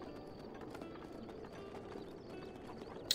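Horse hooves clip-clop in a steady, even rhythm in Zelda: Breath of the Wild, quiet and continuous, with faint game ambience behind and a brief bright chime at the very end.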